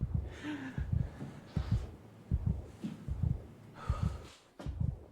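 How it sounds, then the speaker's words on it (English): Low rhythmic heartbeat thuds pulse steadily through a tense horror video game scene in Soma, with a faint airy hum and breathy texture beneath the beats. "I hear heartbeats."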